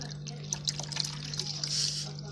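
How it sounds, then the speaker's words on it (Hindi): Water poured by hand onto a surface, a light trickling splash with a few drips over a steady low mains hum. "ये जी पानी डाल दिया है।"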